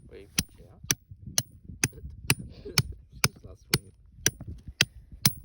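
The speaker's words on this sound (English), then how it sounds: "and Dad and Reese have got the hammer and gad." A hammer strikes a gad into calcrete and ironstone rock during outback gold prospecting, sending out a regular series of sharp metallic clinks about every half second, close and distinct, with faint voices between blows.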